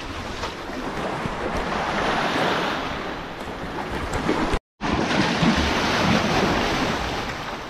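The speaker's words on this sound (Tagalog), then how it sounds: "Lumalakas ang hampas ng alon mga kalahi." Ocean waves pound hard against a deep-water shore with no sand, a dense, continuous roar of surf with wind buffeting the microphone, loud and unbroken apart from one brief dropout.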